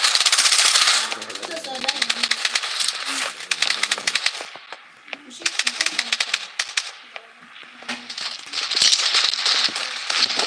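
Rapid machine gun bursts in a video game, loud and close, come in several long rattling volleys separated by short lulls. Voices speak faintly underneath.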